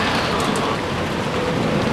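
Rain falls steadily in the Umineko video game, a dense, even hiss of drops with no pauses, loud and alone for the whole stretch.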